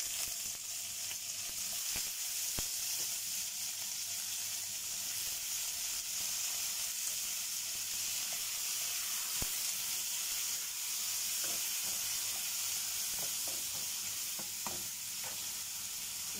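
Onion, ginger and tomato sizzle steadily in a hot pan while cooking sinigang na hipon, a constant frying hiss with occasional stirring clicks and scrapes, close and without talk.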